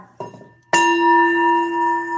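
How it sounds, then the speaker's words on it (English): A small bell struck once faintly, then a second strong strike that rings out clear and sustained, its bright metallic tone lingering and slowly pulsing as it decays. "Some people can't even handle the ringing of the bell."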